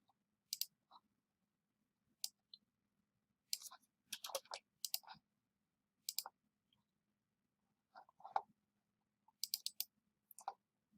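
Computer mouse clicks while extracting folders on a PC come in short, crisp clusters of two or three, spaced irregularly across otherwise near-silent quiet.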